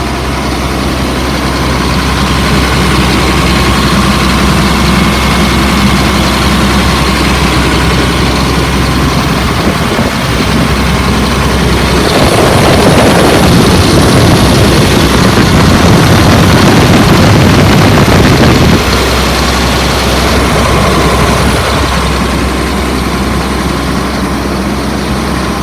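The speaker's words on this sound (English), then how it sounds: "The motor sounds like it's on a fast idle." A 2004 Blue Bird All American 72-passenger school bus engine runs steadily on a fast idle, a loud, close, continuous rumble that swells briefly near the middle before settling back.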